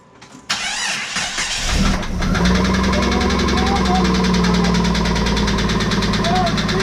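A Jeep 4.0L straight six with no oil pan cranks for a moment and then catches, settling into a loud, steady idle with a rough mechanical clatter. Voices are heard over the running engine.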